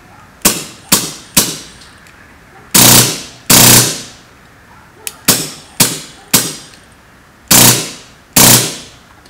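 Wolverine Inferno Gen 2 airsoft engine firing inside a gearbox in sharp bursts and single shots: short loud cracks in uneven groups, some doubled or tripled in quick succession, with near-silent gaps between.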